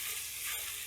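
Raw mango pieces frying in oil with garlic and cumin, giving a brief, soft, steady sizzle heard up close with no voices.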